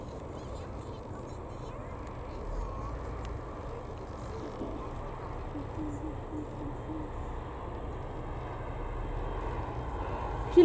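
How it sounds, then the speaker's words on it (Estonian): A fixed-wing airplane passes close by at Tallinn Airport, its engines giving a steady, continuous roar that swells slightly toward the end. "See lennuk on nii lähedal ju."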